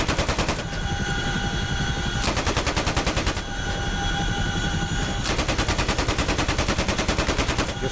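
Door gunners on an aircraft in DCS World hammer away with machine guns in long, continuous automatic bursts, loud and close, with brief breaks near one second in between the strings of fire.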